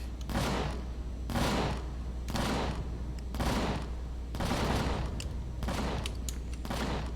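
Bursts of rapid automatic gunfire from Empyrion Galactic Survival Alpha 10.5 repeat in about six volleys separated by short gaps over a steady low hum, loud and close, with no one speaking.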